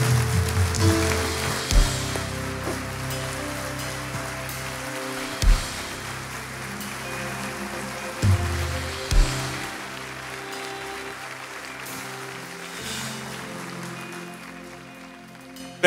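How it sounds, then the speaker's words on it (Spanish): A standing church congregation at a Spanish-language service applauds, a sustained, hissing wash of clapping with a few low thumps, gradually thinning out toward the end. "dele un aplauso fuerte al Señor"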